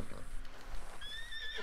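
A horse in Red Dead Redemption 2 neighs in a short whinny, with high rising tones near the end over a steady low game background, fairly close.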